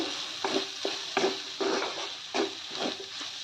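A spoon stirs dry prawn fry with grated coconut and coriander in a pan, giving a steady run of close scraping strokes over a faint sizzle.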